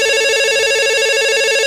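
A telephone rings loudly and without a break, a steady electronic ringtone with no voices over it.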